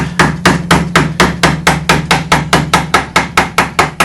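Mallet blows drive a traditional carving gouge into walnut, a steady series of about fourteen close, loud wooden knocks at an even pace, each ringing briefly, with no voices.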